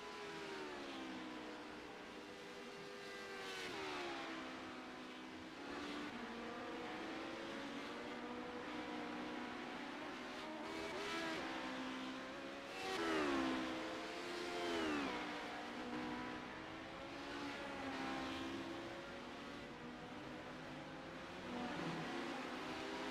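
A race car in a CORE Premier Series race roars past the start-finish line, its engine whining and rising and falling through gear changes, steady and moderately distant for the whole stretch.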